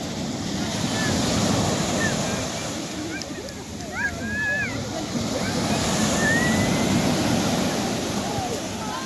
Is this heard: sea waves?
yes